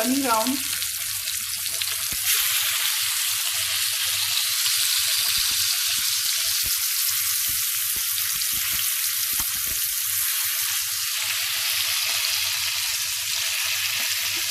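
Salmon fillet frying skin-side in a hot pan: a loud, steady sizzle and crackle that fills the whole stretch, with a few soft knocks as the fish is pressed down.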